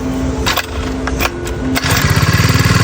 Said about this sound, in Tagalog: ang kanyang pang grass cutter at ayan Papa, ayan, testing ni Papa